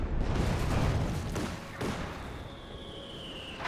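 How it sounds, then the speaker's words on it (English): Muffled booms and crackling blasts roll together in a dense barrage, like distant rocket impacts and explosions in a World War II strategy video game, fading into a hissing rumble. "More rockets, more explosions."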